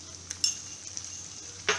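Cauliflower fries in a pan with a steady close sizzle while it is stirred, giving a couple of sharp spoon scrapes against the pan over the hiss.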